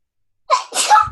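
One person sneezes once, close and loud, with a quick intake followed by a sharp two-part burst against otherwise silent surroundings.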